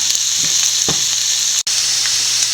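Coriander powder masala being sautéed in a pan for a fish curry, a loud continuous frying sizzle with soft stirring scrapes, close and uninterrupted apart from one brief dropout.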